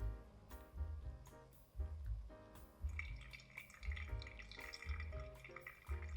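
Water poured quite fast over ground Ugandan natural coffee in a V60 dripper, a close, quiet, bubbling trickle with uneven surges and splashes lasting several seconds, no talking.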